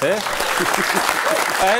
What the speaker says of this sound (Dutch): Nou, applaus.